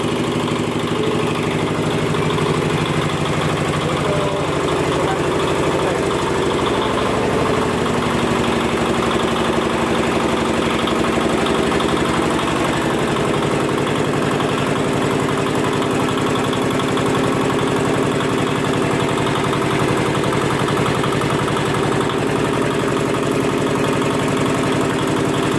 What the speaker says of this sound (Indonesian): Proses penggilingan kedelainya